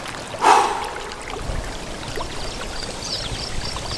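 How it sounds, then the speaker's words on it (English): A creek flows in a steady, soft rushing wash, with a brief louder splash or knock near the start. "you've got the creek sounds"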